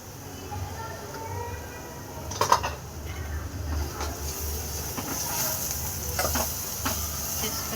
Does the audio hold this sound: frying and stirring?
yes